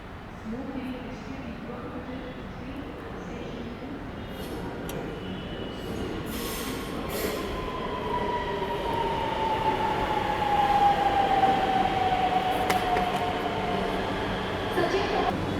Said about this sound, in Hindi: ये है भारत की शान, रैपिड रेल, इंडिया की फ़र्स्ट हाई स्पीड ट्रेन